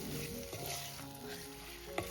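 Marinated shrimp sizzle in a spiced tempering while being stirred, a dense continuous frying hiss with soft scrapes and one sharp knock of the spoon near the end, close and quiet.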